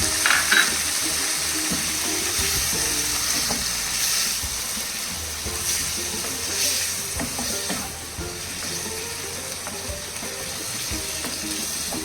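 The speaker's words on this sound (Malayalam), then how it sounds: "ഇത് ഇളക്കിയതിന് ശേഷം കുറച്ച് ഒരു പാത്രം വെള്ളം ഒഴിക്കുക, ചെറിയൊരു കപ്പ്." Steady loud sizzling of chicken cooking in a pan, with occasional stirring scrapes and a brief splash of water poured in near the start; no voices.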